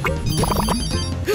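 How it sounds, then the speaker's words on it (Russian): A mobile phone rings in an animated cartoon, a bright warbling ringtone cutting through busy background sound. "Ой, это же мой мобильник!"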